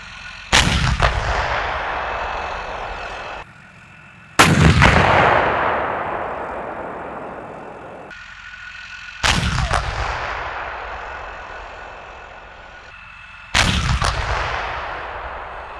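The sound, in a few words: Leopard tank live firing exercise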